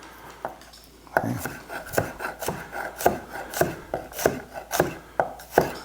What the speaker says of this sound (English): so then we're going to cut the asparagus. I'm going to cut it on a bias, just like this.